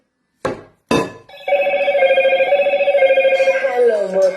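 Telephone ringing in a broadcast studio before a caller is answered: two short bursts, then a sustained warbling ring tone lasting about three seconds, loud and close, with no talk over it.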